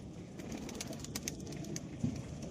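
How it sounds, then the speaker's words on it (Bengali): Powder pigeons coo at a busy Tuesday animal market in Beldanga, their low soft murmurs continuous under crowd noise with faint clicks and rustles. "আরো আছে দেখো, পাউডার কবুতর আরো আছে"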